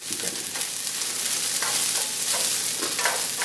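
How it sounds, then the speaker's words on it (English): Garlic stir-fried with egg and rice in a hot pan, a dense, loud, steady sizzle with brief bursts as the food is stirred around, close up and with no voices. "just stir it around. Put a little bit of garlic."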